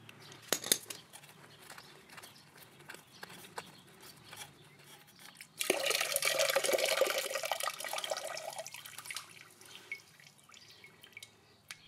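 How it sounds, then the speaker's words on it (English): Old coolant draining from the cylinder drain of a BMW R1200GS motorcycle into a container, a steady trickling, splashing liquid stream that starts suddenly and tapers off, preceded by faint drips and clicks. "Place a container underneath the cylinder to capture all of the old coolant."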